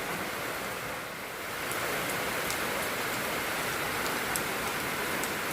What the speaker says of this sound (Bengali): কি সুন্দর বৃষ্টি পড়ছে ঝিরঝির করে